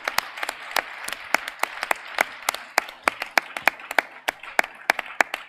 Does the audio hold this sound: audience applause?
yes